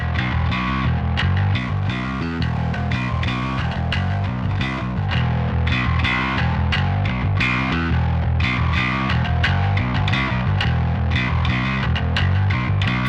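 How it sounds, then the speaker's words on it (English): A bass guitar played in a modern metal style runs through a Pulsar Modular P42 Climax line-driver plug-in, giving a continuous, heavily distorted, fizzy tone with dense rhythmic picking that stays loud and steady throughout. "That is the P42 Climax DI line driver in a modern metal style setting."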